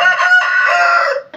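Caged hens and a rooster make a loud, close burst of crowing and clucking that fills most of the moment with no one talking.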